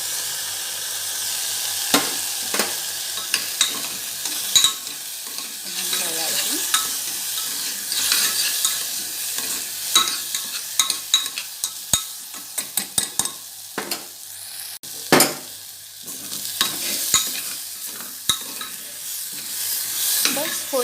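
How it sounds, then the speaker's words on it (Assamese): Vegetables with turmeric and salt being stir-fried in a pan for a baby dal soup: a soft sizzle under repeated scraping and clinking of a spatula, with sharper knocks scattered throughout. "এনেই অকণমান ফ্ৰাই কৰিলে হৈ যায়"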